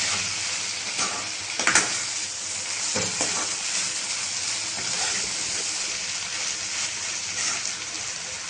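Brinjal and grated coconut sautéed in a pan for a Tamil poriyal give a steady sizzle and fry hiss, with a few brief stirring scrapes and clinks throughout, close and even, no talking.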